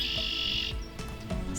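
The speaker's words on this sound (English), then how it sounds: "Male red-winged blackbirds are one of the first spring arrivals in Ohio, and their territorial vocalizations" A male red-winged blackbird gives territorial calls in Ohio in spring, a bright buzzy trill followed by short chirps, close and clear.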